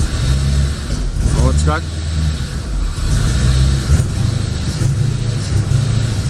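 Engine of an abandoned 1985 Corvette, long left sitting, runs with a steady low drone and struggles to rev, holding mostly even throughout while someone talks over it.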